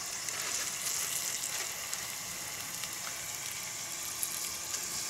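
Fish frying in a pan with a little coconut oil, a soft, even crackling sizzle with faint pops, continuous and quiet throughout.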